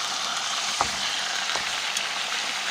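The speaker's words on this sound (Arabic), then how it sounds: "نخليوها حتى تقلى مزيان حتى شويه ديال الحموريه" Meat frying in a pan with a steady, close sizzle and faint crackle, broken by a few soft pops, for Marrakech-style meat with aubergine.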